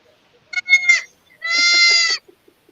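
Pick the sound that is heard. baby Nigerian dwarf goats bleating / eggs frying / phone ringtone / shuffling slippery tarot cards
baby Nigerian dwarf goats bleating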